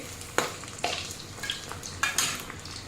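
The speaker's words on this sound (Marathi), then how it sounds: "आता हे आम्ही छान सोनेरी रंग येईपर्यंत अशा तळून घेते हलवायच्या आहे" Pieces of jowar flour dough fry in hot oil over a raised flame, giving a constant sizzle broken by several sharp bursts and light clinks as a utensil stirs them in the pan.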